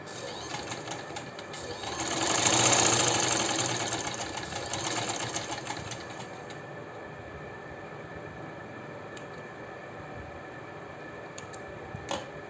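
Sewing machine running fast while stitching fine, narrow pleats into a garment sleeve, a continuous buzzing whir that swells loud then settles into a steady hum, with a few light clicks at the end.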